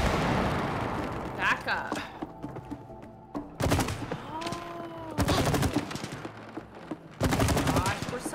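Sap blowing up in the co-op video game It Takes Two comes as repeated bursts of gunfire-like blasts, some loud and rapid, with quiet gaps between. A player speaks briefly over the in-game noise.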